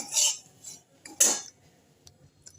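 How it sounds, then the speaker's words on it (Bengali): A utensil scrapes and clinks against a pan while semolina is stirred and roasted, two or three brief bursts separated by quiet pauses. "সুজিটা একটু লাল লাল করে ভেজে নিই"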